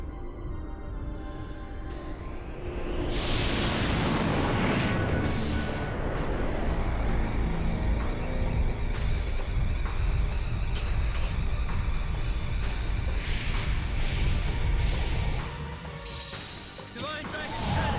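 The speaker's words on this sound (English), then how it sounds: "Divine Dragon Cannon." Divine Dragon Cannon attack explosions from the Legend of Dragoon video game: a dense, loud roar of blasts and rumbling that swells after a few seconds, holds steadily for about twelve seconds, then eases off.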